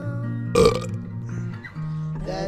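A single loud, deep burp bursts out near the start and is followed by a lower rumbling tail, close and unaccompanied, with faint sustained tonal sounds underneath.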